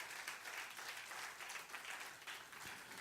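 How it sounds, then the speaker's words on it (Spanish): Sustained applause from a church congregation fills the space, dense clapping with no pauses, steady in loudness for the whole stretch. "Alguien tiene que darle un aplauso al Señor Jesús."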